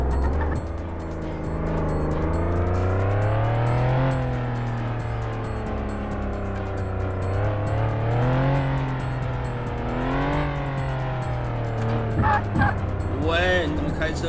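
A police car in the Flashing Lights game cruises along, its engine humming and rising and falling in pitch as it speeds up and eases off, with someone talking over it throughout.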